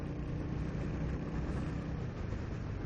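A black Royal Enfield Hunter 350 motorcycle rides past with a steady, low single-cylinder engine rumble, continuous and moderately close, with no talk over it.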